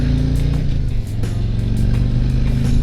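A loud 2021 Harley-Davidson Street Glide engine roars close by while accelerating, a steady, heavy drone with no voices.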